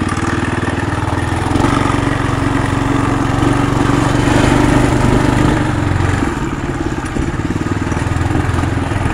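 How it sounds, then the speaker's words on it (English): A 2022 Trail Master MB200 mini bike engine runs loud and close at a steady idle, with the loose fuel tank adding a constant buzzing rattle throughout. "This tank rattling's pretty annoying."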